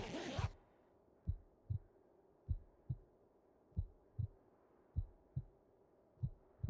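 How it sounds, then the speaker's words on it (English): Heartbeat sound effect from the survival video game The Hunted: a steady, close thumping of paired beats, about eight double thuds evenly spaced, heard alone after a short burst of noise at the start. "the heartbeat is just like, it's really driving home the you're dying feeling"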